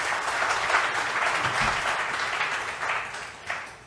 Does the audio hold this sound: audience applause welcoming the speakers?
yes